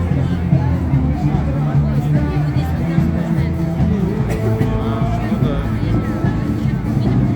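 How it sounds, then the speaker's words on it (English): Crowd on Nevsky Prospect in St Petersburg, Russia, a steady outdoor hubbub of many voices with passing traffic, while a nearby person talks over it. "and you got the crowd here."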